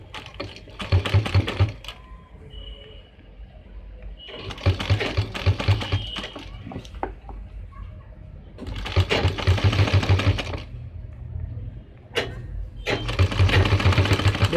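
A sewing machine stitches the neck patti of an Angrakha suit in four separate bursts of rapid rhythmic needle chatter, with quiet pauses and small handling clicks between runs.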